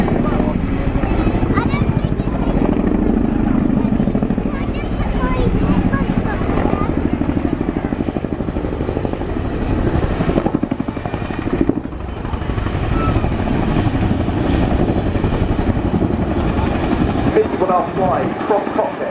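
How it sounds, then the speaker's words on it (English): Military helicopter at the RIAT air tattoo airshow flying a nose-down quick stop, its loud continuous rotor chop and turbine roar filling the clip while a commentator talks over it. "the aircraft is about to complete what we believe to be one of our most impressive frontline manoeuvres, the nose-down quick stop"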